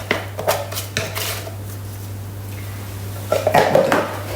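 Dishes and a bacon-greased spatula clatter and scrape in a kitchen sink, with bursts of clinking near the start and again toward the end, separated by a quieter running-water hiss.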